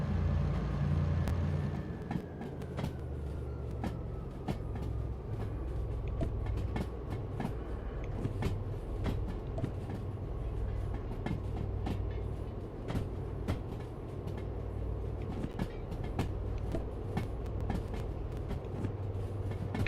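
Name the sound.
train moving, from a video game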